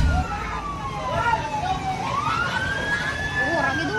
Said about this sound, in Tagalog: Mabatian ang uwang sang fire truck na nagresponde sa barangay Alalasan